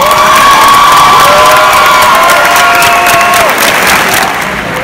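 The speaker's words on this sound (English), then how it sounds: "give your mom, your dad, and family members a big thank you round of applause" A graduation crowd of families at a Sci-Tech high school ceremony bursts into loud, sustained cheering and applause, with high shouts and whoops riding over dense clapping the whole time.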